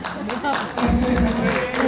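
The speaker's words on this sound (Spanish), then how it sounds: "aplauso para Santiago" An audience claps for Santiago at a community Christmas story contest, steady applause building in the second half, with a voice speaking over it.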